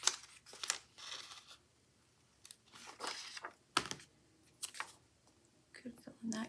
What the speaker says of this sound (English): so I'm just gonna cut this sticker here.